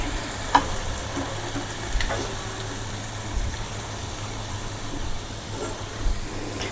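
Mixed vegetables dusted with turmeric powder sizzle in a pan while being stirred, producing a continuous close frying hiss with a few clinks and scrapes of a spoon against the metal.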